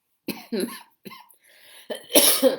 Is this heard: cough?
yes